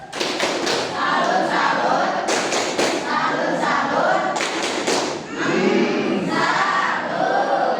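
Classroom children performing a rhythmic clapping chant, bursts of patterned claps and thumps mixed with young voices shouting along, loud and close, in energetic repeated phrases with a short dip midway.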